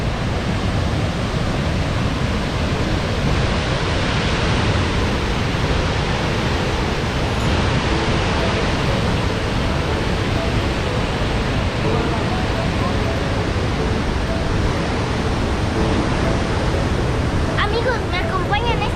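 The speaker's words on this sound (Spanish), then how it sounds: "ahora estamos aquí en Cascadas de Agua Azul, en Chiapas" Agua Azul waterfalls in Chiapas, running muddy after an all-night downpour, give a steady, loud, broadband roar of rushing water that continues unbroken throughout.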